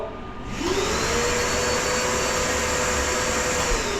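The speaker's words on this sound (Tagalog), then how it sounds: "mag-switch na yung vacuum." A shop vacuum at a Makita LS1219 miter saw station switches on after a short quiet moment. It whines up quickly and then holds a loud, steady roar close by, with no voices.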